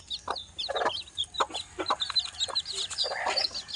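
A mother hen clucks steadily while her chicks peep in high, rapid chirps, close and continuous with no talking.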